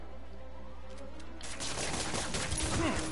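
Rapid bursts of gunfire crackle in a Spider-Man video game, building from scattered shots into a dense, continuous volley that grows louder over a steady background.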